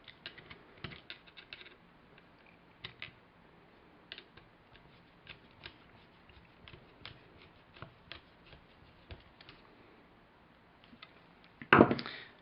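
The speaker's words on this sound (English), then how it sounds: "And then screw the locking mechanism back onto the handle." A locking mechanism is screwed back onto the door handle of a 1967 Volkswagen Beetle, with small metallic clicks, ticks and scraping of parts and tools up close, ending in a louder clunk.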